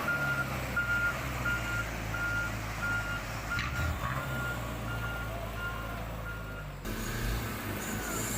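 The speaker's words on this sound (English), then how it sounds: "A Chinese Hawo truck is showing its power climbing the hill" A heavy Chinese Howo truck labors with a deep, continuous engine drone and rumble, while a regular reversing beep repeats steadily throughout and a sharp clunk or air release sounds near the end.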